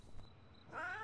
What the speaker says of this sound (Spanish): Obaid, este es un gato salvaje.